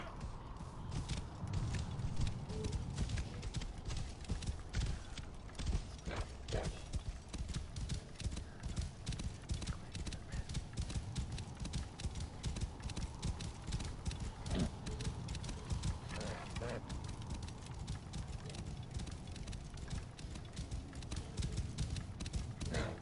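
A horse's hooves clip-clop in a steady, rapid trot throughout the stretch in Assassin's Creed Origins, close and continuous, with an occasional brief whinny and faint talk now and then.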